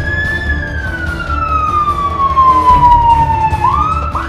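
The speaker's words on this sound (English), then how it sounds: "There were police cars, ambulances, fire trucks, and buses." A loud emergency vehicle siren, as from the police cars, ambulances and fire trucks racing out of an airport terminal, wails in one long falling sweep close by over traffic rumble, then starts to rise again.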